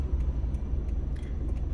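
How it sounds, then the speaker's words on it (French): Traffic rumbling along a road, a steady low drone of cars passing nearby with no clear individual pass-bys standing out. "Tant que les voitures passent."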